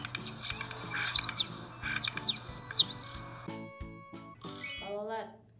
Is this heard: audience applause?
no